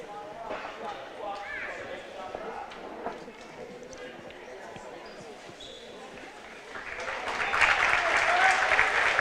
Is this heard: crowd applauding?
yes